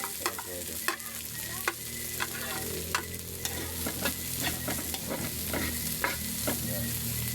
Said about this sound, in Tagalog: Lutuin natin ng carrots